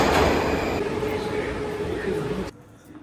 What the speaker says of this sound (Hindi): वापस से मेट्रो पकड़ूंगा।